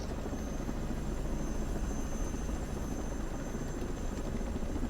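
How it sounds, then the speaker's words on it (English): Steady helicopter rotor and engine drone from the game Ghost Recon Breakpoint, with a continuous loud whirring and thumping that holds at an even level throughout, no voices present. "we come here to Nomad riding in a helicopter"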